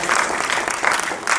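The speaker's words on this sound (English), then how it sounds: "Please give him a big round of applause." A school spelling bee audience claps for a contestant, a short burst of applause in a hall that swells and fades in waves, fairly loud and close.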